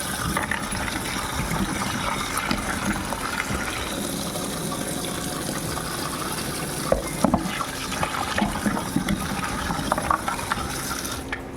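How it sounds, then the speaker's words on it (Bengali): Potatoes and pointed gourd being washed in water for a vegetarian curd dish, with steady splashing and running water throughout, close and fairly loud, joined by occasional clinks and handling knocks. "আমি এবার আলু পটলটা ধুয়ে নেব।"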